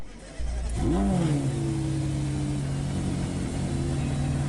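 A car engine in a Roblox game revs up sharply, then settles into a steady, loud drone with a rising and falling pitch, no talking.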